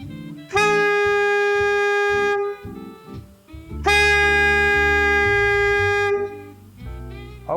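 A saxophone mouthpiece with a reed fitted, blown on its own, gives two long, loud, buzzy sustained tones, each lasting a couple of seconds, with short low notes between them.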